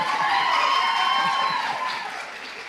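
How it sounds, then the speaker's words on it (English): A round of applause from the audience at a physician assistant long white coat ceremony, sustained clapping with a faint crowd murmur that holds steady and tapers slightly toward the end. "let's give a round of applause to Dr. Felicia Esteban"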